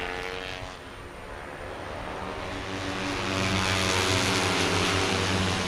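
TVS Apache RTR 160 race motorcycles at an Indian national championship round on a circuit: a continuous engine drone that swells louder as the bikes draw nearer, with no talk over it.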